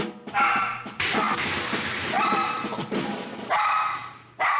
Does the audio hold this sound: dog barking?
yes